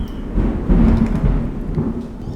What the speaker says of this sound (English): Oh geez, it's thundering over here.